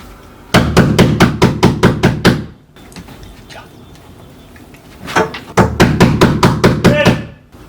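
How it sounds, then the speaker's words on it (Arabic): A door is knocked on in two loud, rapid bursts of about eight sharp raps each, close by, separated by a quiet pause with faint room sounds. "اخبط هناك عشان يسمع"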